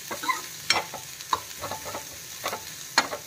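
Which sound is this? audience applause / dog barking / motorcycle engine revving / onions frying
onions frying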